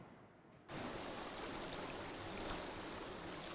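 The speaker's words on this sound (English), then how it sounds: "Sounds of gushing water at the cut-off point here at Abamfu." Floodwater gushes across a cut-off road at Abamfu, the main road linking the community to the capital. A sudden loud, steady rushing roar starts after a short quiet moment and continues without a break.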